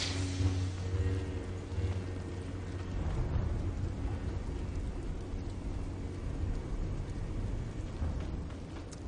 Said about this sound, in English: It's just rain, dark rain.